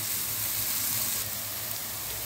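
Onion frying in a little oil in a pan for kofta sandwich filling, giving a steady, close sizzle with soft hissing that stays even throughout, with no talking.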